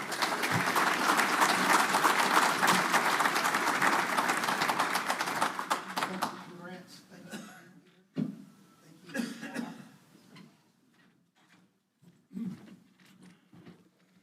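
Audience applause fills a hall at the Coast Electric 2023 Annual Meeting, loud, dense clapping for about six seconds, then tapering into scattered claps, a cough and quiet room noise.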